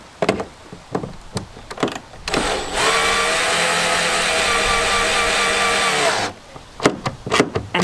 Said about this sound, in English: use this power drill to be able to tighten it